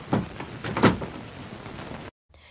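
A door in a Turkish comedy film scene opens or shuts with a couple of knocks and scrapes, fairly close, followed by a brief silence.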